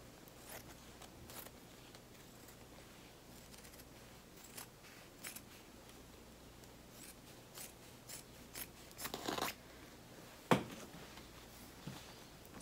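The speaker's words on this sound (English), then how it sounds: "my larger scissors and I'm going to trim I think around all the edges" Large scissors trimming around fabric edges, a series of quiet crisp snips in loose rhythm that grow busier and louder toward the end, with one sharp knock, close by and without speech.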